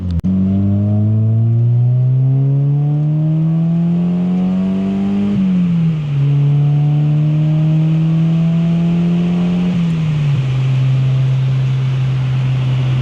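A Mazda Miata's 1.6 engine drones loudly and steadily from inside the car, pitch climbing through each gear then dropping at two shifts, with road and wind noise beneath.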